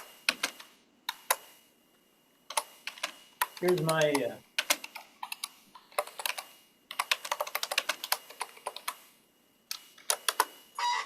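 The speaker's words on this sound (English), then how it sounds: "you're typing fiercely" Fast, fierce typing on a computer keyboard at a makerspace build party, dense bursts of clicking keys with short pauses between runs, fairly close, with a voice briefly speaking over it.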